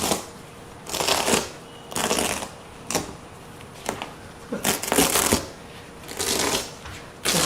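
Velcro rips in repeated short tearing bursts as a seat cushion is pulled off the foam of a Chevy Suburban seat bottom, close and loud, with pauses between pulls.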